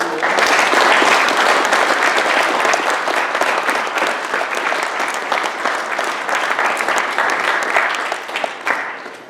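Sustained applause from an audience at an annual installation of officers ceremony, loud and steady for about nine seconds with no speech, thinning slightly near the end.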